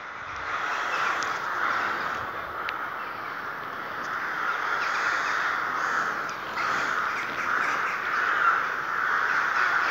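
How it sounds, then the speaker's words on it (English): A dense chorus of many crows cawing continuously, a loud, overlapping flock noise filling the whole stretch without pause. "It's all the crows."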